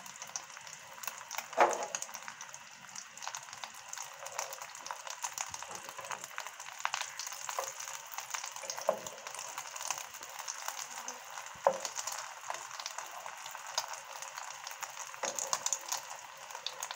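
An egg omelette with onion fries in a pan, giving a faint continuous sizzle with occasional crackles and soft scraping, no voices.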